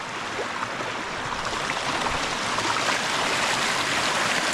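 Water rushes through a broken beaver dam at a pond, a constant close hiss and gurgle that grows slightly louder toward the end, heard without any talk.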